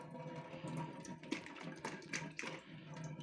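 Muddy water running from a kitchen tap, a steady faint splashing flow with some irregular gurgles, with no voices over it.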